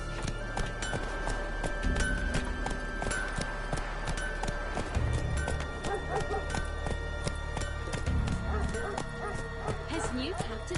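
Geralt's horse Roach trots in The Witcher 3, hooves clip-clopping in a quick steady rhythm close by, while characters talk over it and a dog barks.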